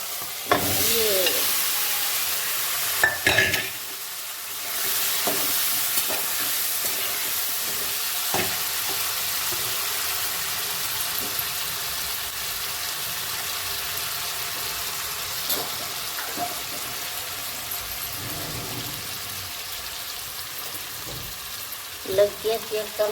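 Potatoes sizzle steadily in a hot pan while a spoon stirs them, scraping and clinking now and then against the metal over a continuous, bright frying hiss.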